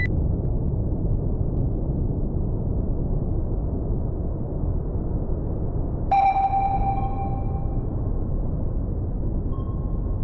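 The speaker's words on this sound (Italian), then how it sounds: "Allora, ping. Con, sonar, switching to active search." An active sonar ping from the Cold Waters submarine game rings out once partway through as a clear ringing tone with a fading tail, over a steady low underwater rumble.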